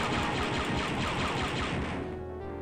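Stormtroopers fire blasters in the 1995 game Star Wars: Dark Forces, a dense rapid burst of shots with crashing noise, loud and close, then quickly dying away, with no speech.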